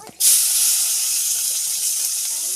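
A sudden loud, bright sizzle bursts out as garlic, pepper, green chilies and curry leaves hit hot oil, continuing as a steady crackling hiss, close and alone.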